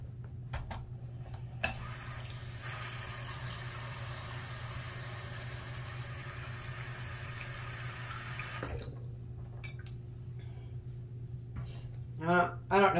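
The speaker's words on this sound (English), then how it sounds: "So it says that I need to fill the barrel with enough water to just cover the rocks." Water pours from a tap into a rock tumbler barrel holding rocks, a steady splashing rush for several seconds between quieter handling sounds, with a brief voice near the end.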